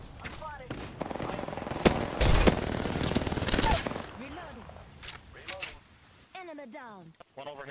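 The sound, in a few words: gunfire in the video game Apex Legends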